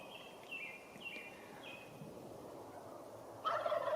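Three distant wild turkey gobbles ring out in quick succession on public land during a bow hunt, followed by a brief burst of rustling near the end.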